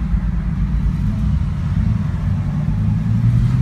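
A twin turbo Lamborghini Gallardo engine rumbles low and steady up close, a deep continuous drone with no talk over it.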